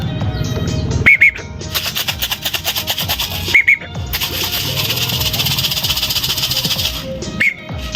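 A bird gives sharp chirps and squawks in short bursts, repeated a few times over a loud, steady background noise.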